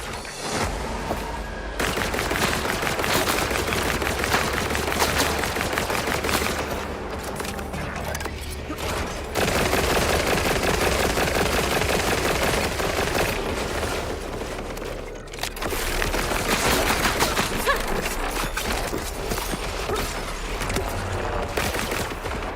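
Big guns blaze in a video game, sustained rapid heavy fire in long loud bursts with short gaps between them, booming impacts layered over game noise.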